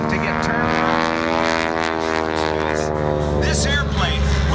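A World War II primary trainer propeller airplane drones loudly through a hammerhead stall turn at an airshow, its steady engine hum shifting in pitch, with an announcer talking over it throughout.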